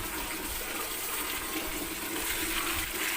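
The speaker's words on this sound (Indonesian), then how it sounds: "Kasih air ya sampai posisi airnya melebihi daun ketapangnya." Water pours steadily over ketapang leaves in a container, making a continuous loud rushing, gushing sound that stays even throughout with no talking.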